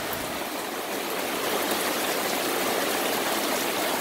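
A heavy summer downpour roars in an unbroken, full hiss, close and loud, with no voices over it.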